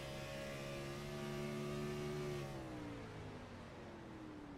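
In the iRacing game at Chicagoland, a race car engine drops revs with the clutch pushed in, a loud close whine that sinks smoothly in pitch as the revs fall, with no voices.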